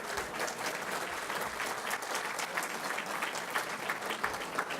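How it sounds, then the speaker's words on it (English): Sustained applause from a dinner audience at a Lincoln Day Dinner fills the room, a steady dense patter of many hands clapping close by throughout. "Yes, that's an applause line."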